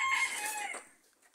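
A rooster crows nearby at a rural countryside stop in San Juan, a single loud call that rises and trails off within about a second.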